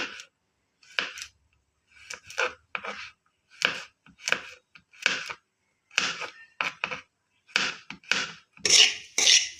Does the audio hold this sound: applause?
no